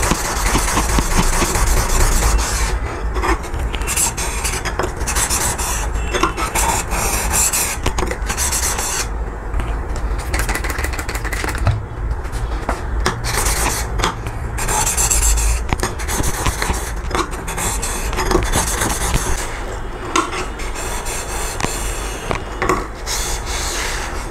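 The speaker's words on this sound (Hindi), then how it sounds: "जब हम बैक साइड रगड़ेंगे" Back of a woodworking chisel rubbed flat on a sharpening stone, a steady rasping scrape repeating in close strokes with no talk.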